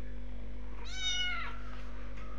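A small kitten gives one short, high, rising-and-falling meow, close and clear over a steady low electrical hum.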